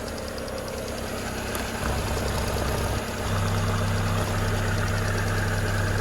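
A Volkswagen Golf 4 engine idles close by with a steady mechanical hum and a faint repetitive ticking, its low drone growing slightly louder and rougher partway through, with no talking.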